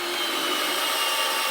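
Cheap cordless drill, a DeWalt knockoff, drives a screw into wood, a short steady whirring grind that lasts just over a second, no voices.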